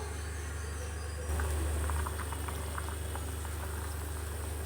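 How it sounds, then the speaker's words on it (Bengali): A pot of rohu fish curry with drumstick bubbles at a low, steady simmer with soft popping bursts over a constant hum; no talking. "দেখুন বলক এসে পড়েছে"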